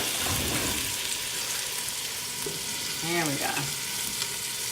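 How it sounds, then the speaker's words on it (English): Meatballs browning in a pot over medium-high heat give a steady crackling sizzle with small stirring clatters, and someone speaks briefly partway through. "on a medium-high heat, we're just going to brown the meatballs."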